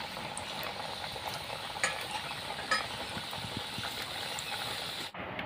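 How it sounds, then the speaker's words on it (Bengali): Khaja pastries for a Rath Yatra festival sweet fry in hot oil with a steady, dense sizzle and crackle, a couple of brief louder pops, cutting off abruptly near the end. "বাকিগুলো আমি একইভাবে ভেজে নিচ্ছি।"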